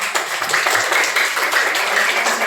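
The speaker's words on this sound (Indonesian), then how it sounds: "Tepuk tangan untuk kita semua." Students in a class clap together after a lesson, a dense steady patter of many hands lasting throughout, fairly loud and with no voices over it.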